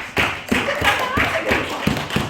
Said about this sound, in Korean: 정답 우리 유경이에게 박수 한번.